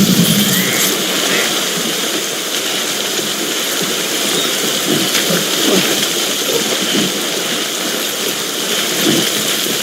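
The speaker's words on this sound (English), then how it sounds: "Don't stay out in the rain any longer than you have to." Steady timefall rain in the video game Death Stranding, a dense continuous hiss with a low rumble beneath, loud and unbroken throughout with no speech.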